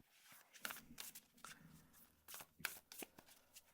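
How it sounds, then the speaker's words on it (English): Tarot cards shuffled and drawn from a deck, giving quick papery riffles and slaps in irregular bursts, close and fairly quiet, with no talk. "so now let's pull your tarot cards"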